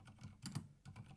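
Quick typing on a computer keyboard as a prompt is entered, a short burst of light clicking keystrokes, close and clear, with no voices.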